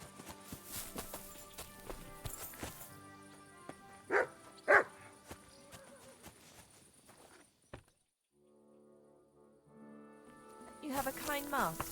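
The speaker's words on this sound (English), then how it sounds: "You silly doggy" A dog in Kingdom Come: Deliverance II barks a few loud, close woofs amid game ambience, with clopping hooves and footsteps around it and voices talking nearby.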